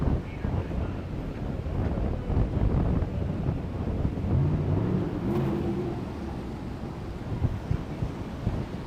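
Gusty night wind in Miami buffets an outdoor microphone near Sunny Isles Beach, a steady low rumble that swells and eases without pause, with faint traffic or surf blending underneath and no clear speech.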